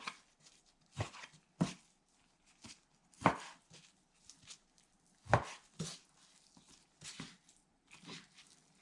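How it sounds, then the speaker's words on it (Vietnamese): A knife chops raw chicken into bite-sized pieces on a cutting board, with sharp, irregularly spaced chops. The sound is close and clear against a quiet background. "mình cắt cỡ như thế này đây ha, miếng vừa ăn như vậy nè ha"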